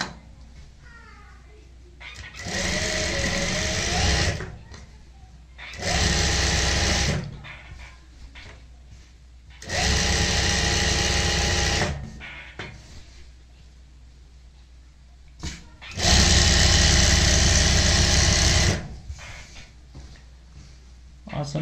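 Close sewing machine stitches the side seam of a Pakistani-style salwar in four separate whirring runs of a few seconds each, with a voice talking in the quieter gaps between them.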